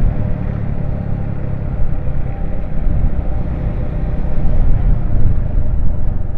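A motorcycle on a solo ride rumbles steadily throughout, a continuous low engine drone with road and wind noise, loud and close, with no talking.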